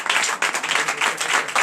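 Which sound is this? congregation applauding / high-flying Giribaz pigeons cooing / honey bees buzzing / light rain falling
congregation applauding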